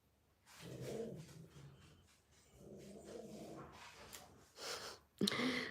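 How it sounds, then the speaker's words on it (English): A pet dog indoors gives faint growls, snorts and grumbling noises in several short bursts, with a louder huff near the end. "I don't know if you can hear my dog."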